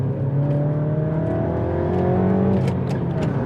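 A modified Mini F56 JCW accelerates from inside the cabin. The engine note rises steadily and loudly, then drops briefly at a gear change and climbs again, with no talk.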